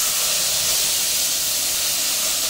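Whole spices and a little sugar sizzle loudly in hot oil as masala goes into the pan for a curd soybean curry, a steady, dense hiss that carries on without break and with no talking.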